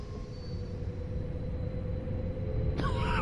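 A train pulls away from a stop in Train Sim World 2 on the Luzern–Sursee line, a steady low rumble and hum that builds slowly, with a brighter mechanical noise entering near the end.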